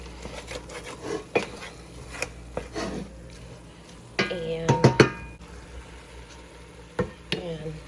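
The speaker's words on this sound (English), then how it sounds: "you just want to stir" A spoon stirring food in a pot, with irregular knocks, clinks and scrapes against the metal, some in quick clusters, over a quiet background.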